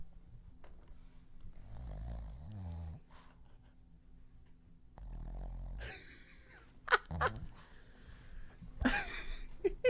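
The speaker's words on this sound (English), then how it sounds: "Our dog is snoring." A sleeping female dog snores on her bed, with soft low rasping breaths in slow repeated cycles, followed by louder snuffling, wheezy bursts and rustling near the end.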